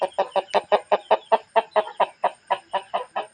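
Free-roaming chickens outdoors give a quick, steady series of about fifteen clucks, evenly spaced and fairly close, with no voices.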